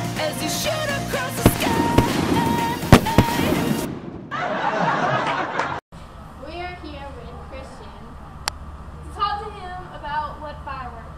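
Fireworks exploding, several sharp bangs and crackles in quick succession at first, followed by quieter sounds with talk and laughter.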